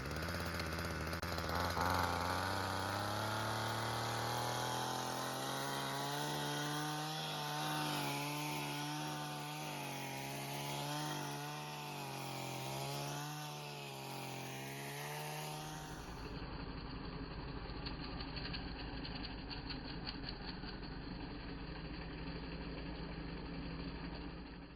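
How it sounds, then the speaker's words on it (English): A hedge trimmer clears vines and bramble to open a hiking trail, its small engine running loud and close with a steady buzzing drone that drops in pitch partway through as the blades bite into growth. "So I'm using my hedge trimmer to make a hole and continue with my progress."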